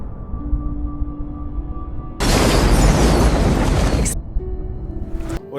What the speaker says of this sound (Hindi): दोस्तों जरा तसव्वुर करें एक जोरदार धमाका